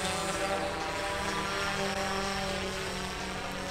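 Several DJI drones, a Spark, a Mavic Pro and a Phantom Pro, fly forward together outdoors, giving a continuous, fairly loud, steady whining propeller buzz with layered tones and no speech.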